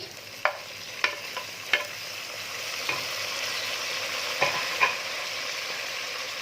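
Tomatoes tipped into golden-brown fried onions for chicken biryani, a soft steady sizzle punctuated by several sharp spoon clinks against the pot, close and without talk.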